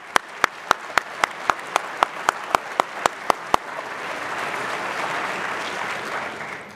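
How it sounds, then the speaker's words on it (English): A single person claps about a dozen sharp, evenly spaced times, then the crowd at a trainee class graduation ceremony breaks into broad, steady applause that swells and holds. "let's give one more round of applause also for Mr."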